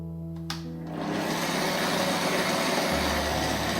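Electric mixer kneading dough for Filipino pork siopao steamed buns, a steady loud motor whir that starts after a brief clatter and runs continuously close by, alone without talk.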